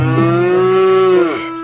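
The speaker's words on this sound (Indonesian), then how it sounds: "Wah, di sini ada suara sapi teman-teman." A single cow lets out one long, loud, close moo with a steady tone that drops off sharply near the end, alone with no talking.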